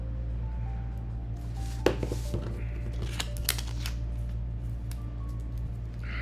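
Scissors snip through paper for a collage, giving a few crisp, close cuts spaced irregularly over a steady low background hum, with no talking.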